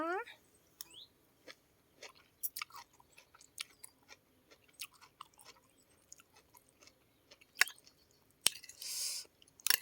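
Close, wet chewing and crunching of a spicy pounded asparagus salad eaten with boiled egg, in irregular bites and soft squishes with a few louder crisp crunches, while someone talks quietly between mouthfuls.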